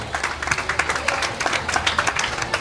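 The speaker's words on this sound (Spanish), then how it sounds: "Fuerte los aplausos para ella" Audience applause at a civic ceremony in Zacatecoluca, a brief burst of many people clapping with distinct sharp claps standing out over a crowd murmur.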